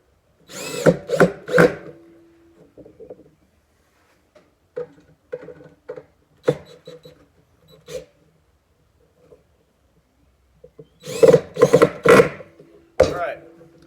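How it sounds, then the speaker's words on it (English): Several short bursts of a power drill driving a screw into a wooden dowel whir loudly at the start and end, separated by quieter clicks and handling noises, with occasional speech between. "I'm going to center it on the dowel and drill it in."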